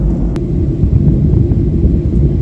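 The cabin of an airliner on a flight from Makassar to Yogyakarta, over the Yogyakarta area, fills with a loud, steady, low engine rumble and airflow roar that goes on without a break.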